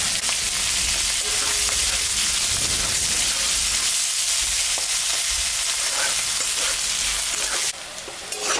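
Onion, dried red chilli, cumin and two bay leaves fry loudly in oil left over from frying fish, giving a dense, continuous close sizzle that eases briefly near the end, with no talking.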